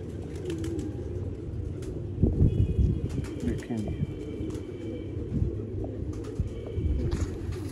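A favourite fancy pigeon at a Haripur Hazara loft coos softly beneath someone talking nearby, with a brief burst of wing flapping partway through.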